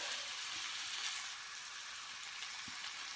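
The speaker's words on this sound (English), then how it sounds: "just go quiet and let you watch me turn some meatballs for a moment" Meatballs fry in a pan for a tomato-sauce dish, giving a dense, even, close sizzle that runs throughout, with a couple of soft knocks as they are turned and no talking.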